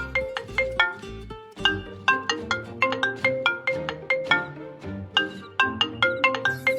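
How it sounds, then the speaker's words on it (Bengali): A mobile phone ringtone plays alone as a bright, repeating melodic tune of quick electronic notes over a steady beat, fairly loud and continuous throughout. "কে আবার ফোন করলো মোবাইলটাতে দেখি কে ফোন করলো"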